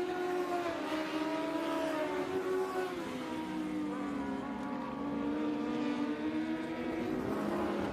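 Dwarf cars race around a track in a feature event, engines droning and shifting pitch as several cars jostle for position, a steady continuous roar heard from a distance.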